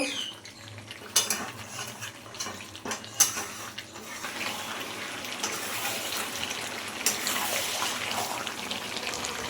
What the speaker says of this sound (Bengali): কিছুক্ষণ কষি বন্ধুরা, দিয়ে জল দেব